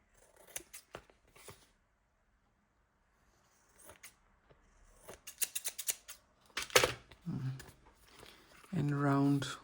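Scissors snipping through paper for a collage, a run of sharp crisp cuts in bursts, close and clear, with someone talking between and over the snips.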